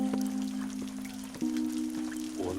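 Steady rain falls as a continuous hiss of drops with scattered sharper patters, over a low constant hum, with no talk.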